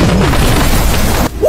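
A timer bomb blows up a shipping container in a crime film scene, producing a loud, dense roaring blast that fills nearly the whole moment before dropping away sharply and surging briefly again.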